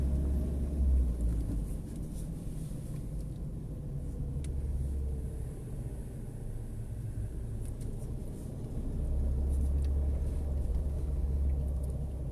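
Steady low engine rumble and road noise from a 2.2 turbo diesel four-wheel-drive vehicle on the move, continuous and fairly loud, swelling slightly at times, with no talking.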